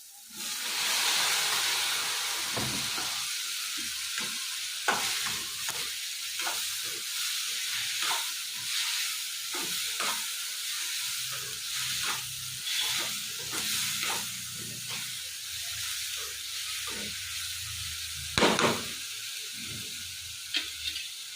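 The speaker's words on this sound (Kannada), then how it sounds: "ಈಗ ನಾವು ಬೇಯಿಸ್ಕೊಂಡಿದ್ದೀವಲ್ಲ ಈ ಕಾಳನ್ನ ಹಾಕೊತಾ ಇದ್ದೀವಿ" Boiled sprouted beans frying in a pan, a loud hissing sizzle at first that settles into a steady fry with scattered stirring scrapes and knocks, no talk.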